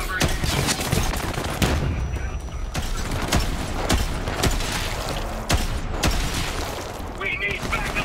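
Rapid bursts of automatic gunfire in Borderlands 3 crack out repeatedly over several seconds, sharp and close, with mechanical clanks between volleys and voices talking over the action.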